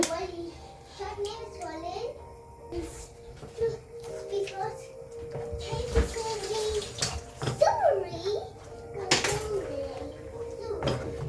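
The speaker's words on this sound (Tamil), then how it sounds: "நல்லா மிக்ஸ் பண்ணி விட்டுட்டு இருக்க வேண்டியதுதான் முட்டை நல்லா வெந்து வரட்டும்" Egg kothu parotta is mixed in a pan, with metal utensils clanking and scraping in an irregular rhythm. Water splashes at times, and voices, including a child's, talk throughout.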